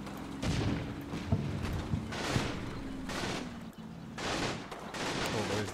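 Continuous distant battle gunfire in a war video game set at an Italian fortress counterattack, with rolling volleys and dull booms forming a steady, moderately loud backdrop.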